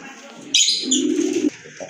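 Cooing from a big-sized black lace pigeon pair mixes with other bird sounds, starting faint before a louder burst of sharper chirps and a sustained low coo in the middle, fairly close.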